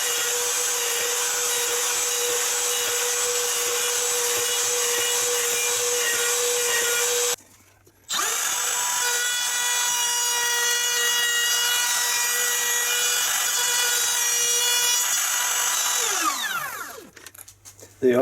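A power router takes a series of small vertical chops in wood, a loud steady high-pitched whine that cuts out briefly, restarts, then winds down near the end.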